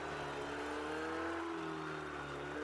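A Ferrari 488 Challenge race car engine drones steadily ahead in Project Cars 2 at Monza, a continuous high whine with slight shifts in pitch and no breaks.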